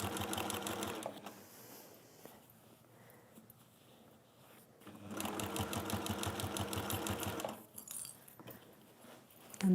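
A sewing machine stitches a velvet lining in two long steady runs, a rapid fine rattling hum broken by a quieter pause, close and without talk.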